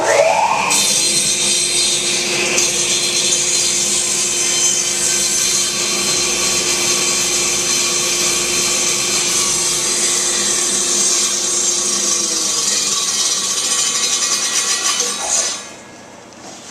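A table saw rips steadily through a board pushed on a crosscut sled, a sustained loud whine with grinding bite that holds for about fifteen seconds before the cut finishes and the motor sound drops away.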